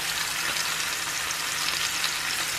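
Asparagus-stuffed chicken breasts are searing in a frying pan. A loud, steady sizzle holds for the whole stretch with no talking.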